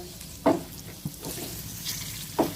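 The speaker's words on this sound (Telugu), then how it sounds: "జీడిపప్పులు ఫ్రై అయిపోయినాయి కదండి" Cashews, raisins and almonds fry in ghee in a pan for rava laddu, giving a steady close sizzle with a few louder spits and stirring bursts.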